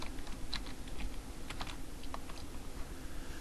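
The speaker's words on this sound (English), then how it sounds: "we'll type the word hotkey." Quick, light clicks of someone typing on a computer keyboard, in an irregular rhythm at close range in a quiet room, with no one speaking.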